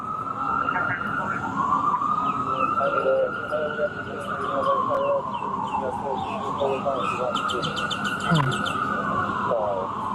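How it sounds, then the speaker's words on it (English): Birds chirp and trill steadily throughout, bright repeated calls over a constant background din, with a rising-falling siren-like tone sweeping underneath. "Like you can hear the birds chirping."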